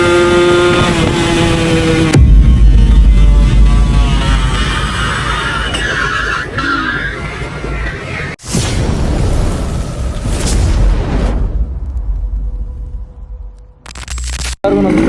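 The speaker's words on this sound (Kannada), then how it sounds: "ಇವಾಗ ಒಂದು RX ಓಡಿಸ್ತಾ ಇದ್ದೀನಿ" A Yamaha RX two-stroke motorcycle built in a full drag setup revs loud and close in rising, rasping bursts, with a sharp pop partway through and brief cuts before the engine roars again.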